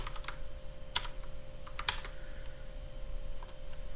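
Typing on a computer keyboard in a quiet room, a few scattered soft key clicks with short pauses over a faint steady hum.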